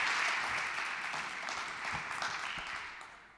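Applause from an audience in Berlin after a keynote talk, a soft, even wash of many hands clapping at a distance that tapers off gradually over a few seconds.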